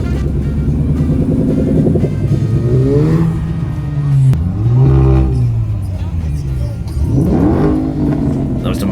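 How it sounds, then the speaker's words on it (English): A Ford Mustang at a crowded outdoor car meet, its engine revving in rising and falling pulls, loud and close, over a steady bed of crowd noise and chatter. "That was the Mustang you can hear right there."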